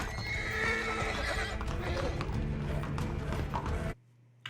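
Horse neighing loudly and close with clip-clopping hooves throughout, broad and dense, cutting off abruptly near the end into near silence.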